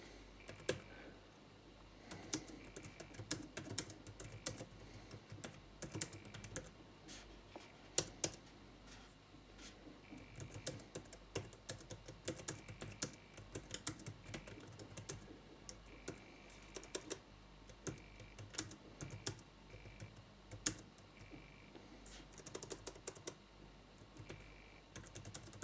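Steady typing on the keyboard dock of an Asus Eee Pad Slider SL101 tablet, soft close keystrokes in uneven bursts with occasional firmer taps, quiet and without speech.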